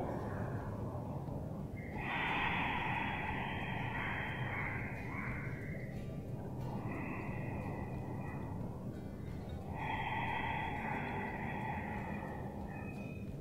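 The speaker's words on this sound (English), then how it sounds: "It almost sounds like a soft snoring sound." Slow, soft ujjayi breaths drawn through a constricted throat, a hushed rasping hiss rising and falling like gentle snoring, close and quiet.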